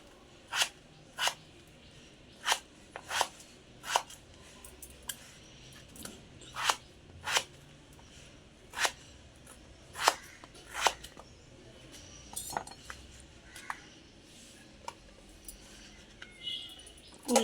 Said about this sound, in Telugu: ఉల్లిపాయలు కోసుకున్నాం సన్నగా.